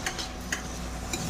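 Cabbage frying in a pan with turmeric and salt being stirred in: scraping spatula strokes and a few sharp clicks against the pan over a soft, steady sizzle, close and fairly quiet.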